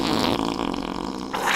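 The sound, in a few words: fart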